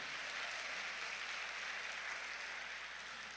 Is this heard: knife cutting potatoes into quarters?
no